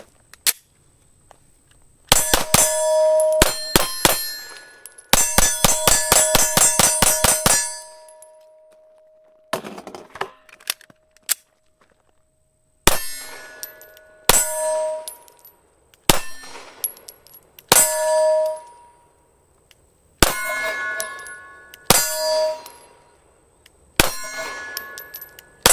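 Bursts of 9mm pistol fire from a Smith & Wesson M&P M2.0 long slide, sharp shots each answered by a bright metallic ring off steel targets, in quick strings with brief pauses between magazines.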